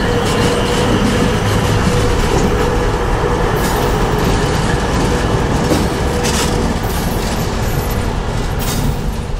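Locomotives running north on the main line past hopper cars in Florida, a loud continuous rumble of rolling wheels with a faint steady whine, heard close and without talk.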